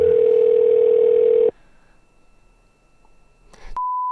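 Steady telephone dial tone heard while calling a crime tip line, loud and continuous for about a second and a half, then a quiet pause, a brief noise and a clean electronic beep tone at the end.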